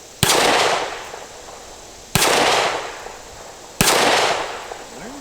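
Three loud, sharp Heckler & Koch CC9 pistol shots spaced about two seconds apart, each with a short ringing decay, close and alone.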